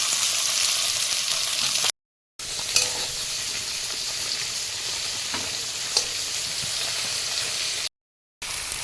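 Panch phoron spices, chopped tomato, garlic, onion and ginger frying in hot oil, a loud continuous hissing sizzle with occasional stirring scrapes, close by, briefly cut to silence twice.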